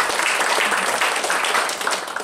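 Church congregation claps together in a steady, dense burst of applause, close and loud, sustained with no talking over it.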